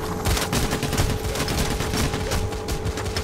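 Rapid, dense automatic gunfire from the heist shooter game Payday The Heist, loud and close, with overlapping bursts firing continuously without pause.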